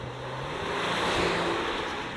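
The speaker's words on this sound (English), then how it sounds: "when you're talking a V6 diesel, this piles on the speed pretty quickly" A Volkswagen Amarok W580S V6 diesel ute, 200kW, accelerating hard, heard from the cabin as a dense, loud, steady engine roar with road noise, rising slightly with no break.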